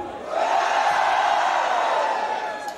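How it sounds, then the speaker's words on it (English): A concert crowd at the Firefest rock festival lets out a sustained, loud collective scream and roar lasting a couple of seconds before tapering off. "Wait a minute, scream like that again."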